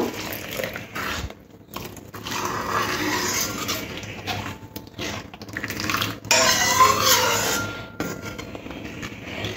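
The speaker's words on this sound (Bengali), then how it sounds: "গরম জলটা ডালের মধ্যে দিয়ে দেব।" Hot water is poured into cooking dal (lentils) in a home kitchen, a close splashing, gurgling pour that comes in several bursts with short pauses between.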